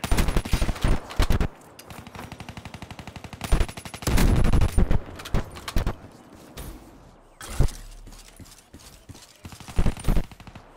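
Rapid bursts of automatic gunfire in a chaotic free-for-all shooter match, loud and close, arriving in clustered volleys with brief gaps between them.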